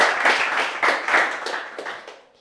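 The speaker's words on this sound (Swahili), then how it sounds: "Mpatie makofi ingine." Audience at a live high school event clapping in a dense, irregular burst of applause that swells and then thins out to a few scattered claps over about two seconds.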